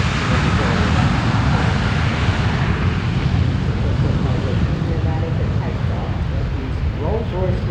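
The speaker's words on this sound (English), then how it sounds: "Rolls-Royce engines doing their thing." Rolls-Royce engines on a Boeing 757 airliner roar at an Australian international air show, a loud, sustained, broad rumble with someone talking over it.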